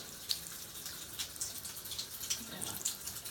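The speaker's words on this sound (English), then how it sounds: "That's just one faucet that's pretty weak coming out of there" Weak stream of hot water running from a household faucet in an older house with galvanized plumbing, a faint, thin steady trickle with light splashing and small drip-like ticks, heard alone at low level.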